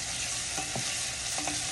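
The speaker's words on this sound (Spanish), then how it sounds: "la auyama y vamos a dejar que se sofría" Pumpkin pieces fry with onion, adobo seasoning, dried cilantro and pepper in a hot pan, a brief, steady close sizzle with a couple of soft stirring scrapes.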